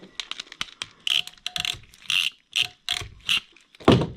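A hand crimp tool squeezing a metal cable casing end on a 1960s Mercedes-Benz speedometer cable, a series of sharp ratcheting clicks in short bursts with gaps between, close and crisp.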